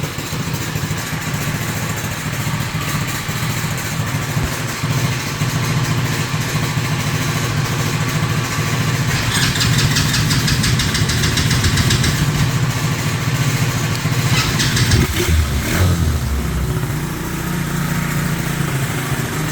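A small engine idles steadily and loudly close by, a constant low chug with a brief rev near the end.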